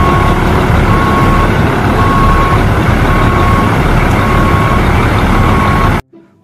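Large orange concrete mixer truck reversing, its backup alarm beeping in a regular, evenly spaced series over a loud, steady diesel engine rumble, close by, before cutting off abruptly near the end.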